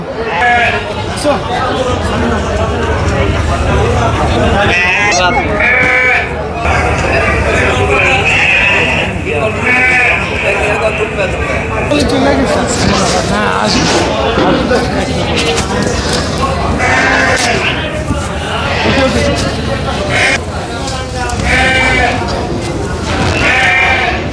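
Fat-tailed dumba sheep bleat repeatedly at a national livestock week exhibition, loud and close, alongside other farm animals, with steady talk from people running underneath the calls throughout.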